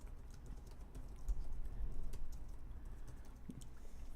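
Typing on the keyboard of an Acer E5-575 laptop, faint soft key clicks tapping in an irregular rhythm, close by and quiet.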